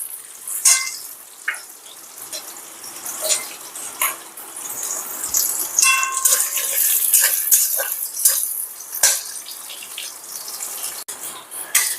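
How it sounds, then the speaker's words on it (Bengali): Onion and capsicum frying in oil for Bengali paneer butter masala, a steady close sizzle with crackling pops and occasional clinks of a spatula, no talk. "এই পেঁয়াজ আর ক্যাপসিকামটা একটু ভেজে আমি তুলে রাখবো"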